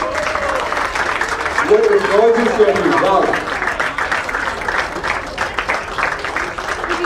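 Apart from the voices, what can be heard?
audience applause at a trophy unveiling ceremony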